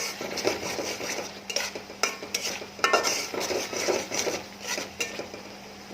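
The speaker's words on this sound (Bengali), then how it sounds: "মশলা কষায় নিচ্ছি।" Spice paste with melted tomato being stirred and fried in a pan, a metal spoon scraping and clinking against the pan in irregular strokes over a soft, steady sizzle, close up with no talk.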